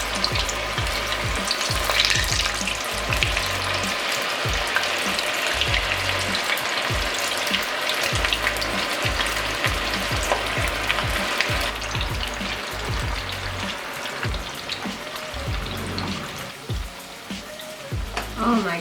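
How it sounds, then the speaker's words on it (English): Cauliflower florets deep-frying in hot oil until golden and crispy, a dense continuous crackling sizzle with rhythmic low bumps, close and steady for a long stretch. "we're gonna fry them until they're golden and crispy all over"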